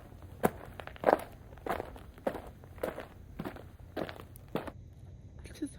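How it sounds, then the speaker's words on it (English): Footsteps walking on a crunchy surface, about eight distinct steps in an even rhythm, fairly close and moderately loud against a quiet background, then stopping. "I just heard some footsteps."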